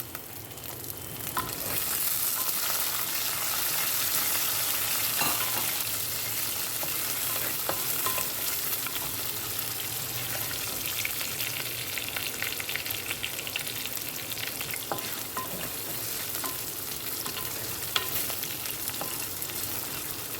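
Soaked raw chickpeas fry in a pan with a continuous close sizzle, broken by scraping stirs throughout, with no voices.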